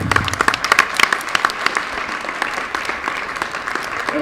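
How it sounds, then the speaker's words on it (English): Audience applause fills a basketball gym on senior night at a women's high school game, a steady wash of clapping lasting throughout with a few louder claps near the start and no talk over it. "Let's hear an applause for Lainey Hunt."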